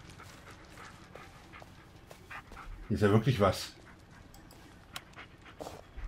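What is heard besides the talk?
dog whimpering and panting in video game Blair Witch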